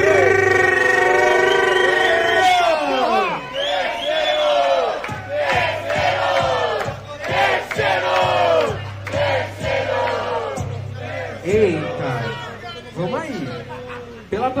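Rap battle audience at a hip hop day final shouts and cheers loudly and continuously, a dense crowd roar with whoops while a voice talks over it.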